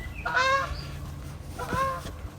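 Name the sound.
geese honking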